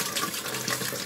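Tap water runs steadily into a sink while a knife scrapes a Seagull IV pre-filter held under the stream, making a continuous close splashing hiss.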